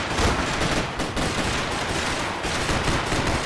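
Sustained gunfire in the video game Max Payne 3, a dense loud barrage of rapid shots running without pause, with a few heavier bursts standing out.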